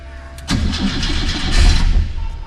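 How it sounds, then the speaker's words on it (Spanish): A Škoda Rapid 1300 engine cranks briefly and catches, then settles into a loud, rough idle with a swell in revs just after the start, close by and with no talk over it. "Vamos a poner a esta maravilla checoslovaca en marcha."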